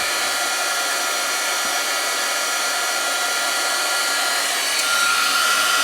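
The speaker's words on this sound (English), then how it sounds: "I'm going to grab my embossing gun. I'm going to heat it up. Sorry for how loud it is." Embossing heat gun blowing steadily and loudly throughout, a constant whooshing fan roar heating the edges of a stamped card, with no talk over it.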